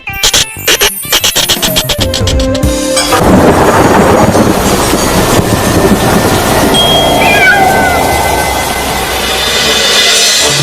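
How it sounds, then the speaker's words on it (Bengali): A cartoon black ghost cat, a doll come to life, meows in a few drawn-out wavering cries over a loud, continuous rumble of rainy-day thunder and storm noise, after a short sharp musical opening. "আরে বিড়ালের ডাক শুনলাম মনে হলো"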